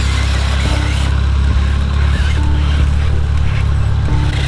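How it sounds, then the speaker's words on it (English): Loud, steady engine drone with a constant low rumble and no speech, fitting a tractor engine running nearby outdoors. "Look at that tractor."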